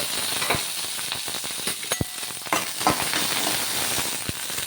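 Green chillies fry in oil in a pan, a steady close sizzle with scattered sharp pops and crackles, no talk.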